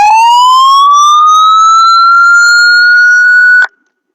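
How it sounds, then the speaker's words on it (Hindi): A loud electronic fire alarm siren wails upward in a single rising sweep, holds its high pitch, then cuts off abruptly. "तो ये सायरन सिस्टम भी बजेगा"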